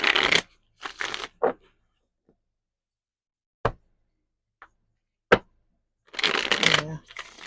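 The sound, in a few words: shuffling a deck of tarot cards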